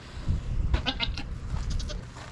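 Homestead goats bleat a few times nearby at milking time over a low rumbling background, short wavering calls in quick succession.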